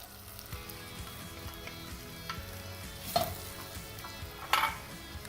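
Onion and garlic fry in a pot for chicken curry with a constant sizzle, broken by a couple of louder scraping stirs, close up with no talking.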